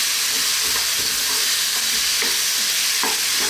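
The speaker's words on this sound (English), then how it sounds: "What we're going to do is just throw this around in the pan." Spices sizzle loudly in a hot frying pan, tossed and stirred with a continuous crackle and occasional scraping strokes over a few seconds.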